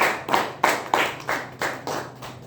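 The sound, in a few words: meeting audience applauding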